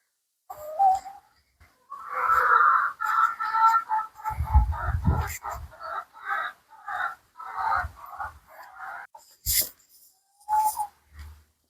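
Hens cluck and murmur in a coop in bursts of close, throaty calls, with a brief rustle of bedding in between.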